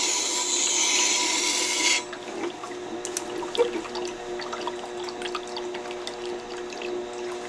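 Bowl gouge being sharpened on a Tormek diamond wheel, a close rasping, scraping grind of steel on the wheel under a wet hiss, the hiss stopping after two seconds while intermittent scraping continues.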